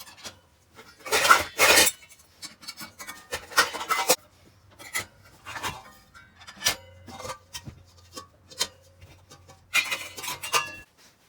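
Pots being handled and packed into storage cubes in an RV kitchen make a series of scraping rubs and clanks, loud bursts of rasping friction broken up by quieter knocks and clinks with brief pauses.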